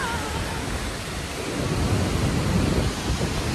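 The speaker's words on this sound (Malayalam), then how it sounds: "അതിശക്തമായ മഴയാണ്" Heavy rain pours at the Ezhattumukam waterfall near Athirappilly, a dense, loud, continuous roar of falling water that swells slightly partway through.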